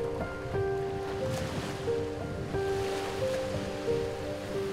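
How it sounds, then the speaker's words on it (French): Sea waves wash steadily onto a beach in Thailand, a continuous soft surf roar with gentle swells, heard alongside faint sustained musical tones and no talk. "La mer est merveilleuse."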